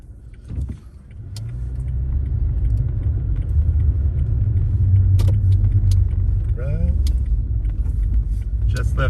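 A car pulls out of a Safeway parking lot on Maui. After a brief thump and jangle, the engine rumble and road noise rise and hold steady from inside the cabin, with a few faint clicks.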